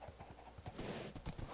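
A horse in a video game clip-clops along in a quick, steady rhythm of hoof beats, fairly faint and continuous with no talk over it.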